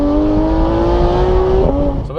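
A Porsche GT3 engine held around 3,000 RPM while driving, a loud steady drone with a slowly rising tone that dips and shifts near the end, no voices.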